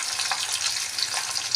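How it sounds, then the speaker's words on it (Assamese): Halved fish heads, seasoned with salt and turmeric, sizzle and crackle in hot oil in a pan, a close, dense and steady frying hiss with small pops and no voices. "এতিয়া মূৰখিনি ভাজি লওঁ। মই মাছৰ মাথা দুফাল বহাই দিছোঁ।"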